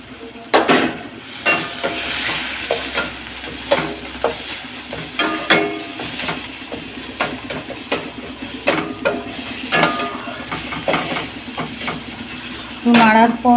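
Onion paste and ginger being stirred in a frying pan, with a spoon scraping and clacking against the pan in a steady, repeated rhythm over a soft, continuous sizzle, close and fairly loud; no talking.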